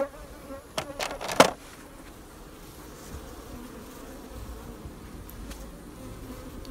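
Honey bees drone steadily around outdoor beehives, a soft, continuous buzz of many insects, with a few close knocks and passing bees early on.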